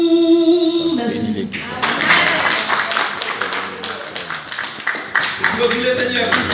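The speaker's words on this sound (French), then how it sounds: "Applaudis le Seigneur plus fort" A church congregation claps in a steady, dense rhythm, loud and close, and voices sing or call out over the clapping.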